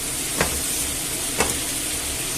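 Pork and potatoes fry in a hot pan over full heat as added wine cooks off, giving a constant close sizzle broken by two soft stirring scrapes.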